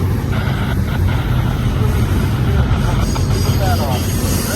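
A BNSF intermodal freight train passing close by, carrying trailers, with steady loud rumble, rhythmic wheel clatter and occasional high wheel squeals throughout.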